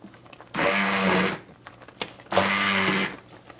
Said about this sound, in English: I'm going to use my immersion blender